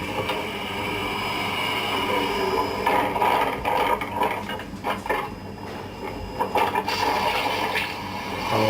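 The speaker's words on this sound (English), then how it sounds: "it's just to show you how quickly this car could fill up" Water rushing and pouring into the cabin of a car as it fills during a sinking-car escape demonstration, a continuous turbulent gush with gurgling surges and splashes, close and fairly loud, with no one talking.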